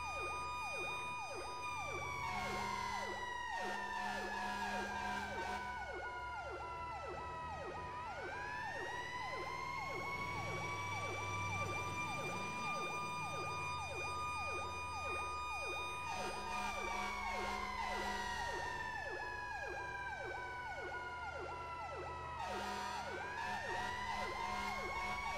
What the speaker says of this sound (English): Oh, that siren.